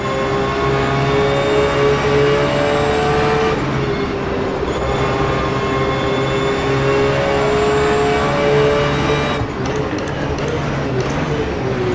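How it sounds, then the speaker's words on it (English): A Porsche 911 GT3 R race car engine in rFactor 2 holds a loud, steady high-revving whine, with sharp gear-change drops partway through and near the end. "the sound of the car, it gets me every time"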